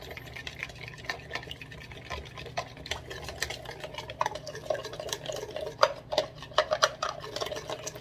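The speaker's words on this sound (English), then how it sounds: "Mix it all up." Soft clinking and scraping of utensils tossing panzanella bread salad in a bowl, irregular and close, growing a little busier toward the end.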